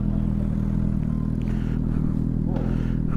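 A Suzuki GSX650F motorcycle with a full Delkevic decat exhaust idles loud and close, giving a steady, throbbing low drone with light mechanical clatter on top.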